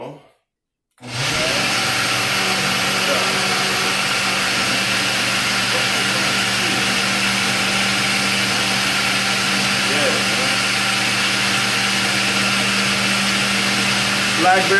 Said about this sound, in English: I'm gonna finish blending it up